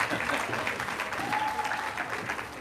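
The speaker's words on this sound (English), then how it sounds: "Yes, you can cheer for his interns." An audience at a hospital health-careers summer internship closing ceremony breaks into sustained applause and cheering, a dense, steady wash of clapping that fills the room.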